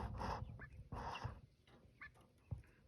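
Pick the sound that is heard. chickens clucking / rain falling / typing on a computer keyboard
chickens clucking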